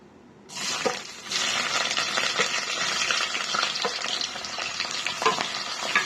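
Onions sizzle in hot oil with garam masala for a mushroom gravy curry, a steady loud frying hiss that starts abruptly after a brief quiet moment, with occasional stirring scrapes and no talk.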